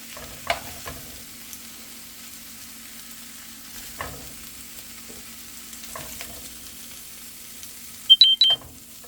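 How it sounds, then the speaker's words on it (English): A rapid cluster of high electronic beeps from a phone app alarm near the end, following quiet kitchen clatter and a steady low hum. "That should not be doing that. That is my alarm, and it's telling me my app stopped"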